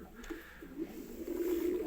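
A pigeon coos softly in a low, steady warble that builds toward the end, close by, with faint background hiss.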